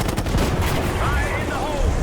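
Call of Duty Black Ops 6 gunfire crackles in a dense, loud burst of rapid shots layered over rumbling battle noise throughout the short stretch.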